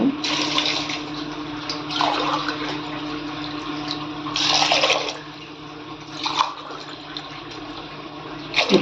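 Tap water gushing and splashing into a pressure cooker in a kitchen, pouring in several bursts with short pauses, close and moderately loud, no talking.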